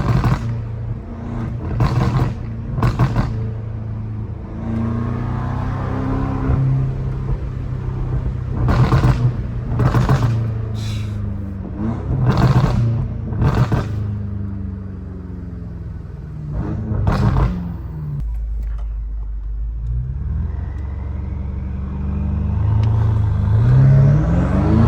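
A BMW M5 Competition with stability control switched off accelerates hard, its engine roaring up through the revs with loud bursts and sharp gear-shift breaks repeating across the run, close and dominant.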